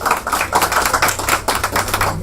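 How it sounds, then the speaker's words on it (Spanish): A debate audience claps for a speaker, with a loud, dense patter of many hands that keeps up steadily without pause. "Un voto de aplauso para él."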